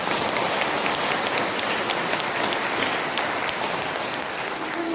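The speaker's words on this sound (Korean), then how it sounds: "좋은 강의 해주신 우리 수련님께 다시 한번 큰 박수 부탁드립니다" Audience applause for a lecturer after a Bible overview talk, a dense, steady roar of many clapping hands filling the room for the whole span, loud and even.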